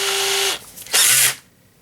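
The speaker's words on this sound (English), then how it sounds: "I'll take my drill bit, or take my drill, and I will tighten this up" An electric drill twists wire tight around a spindle for a bottle brush tree, giving two loud whirring bursts, one long steady run and a second shorter one after a pause, with no talk.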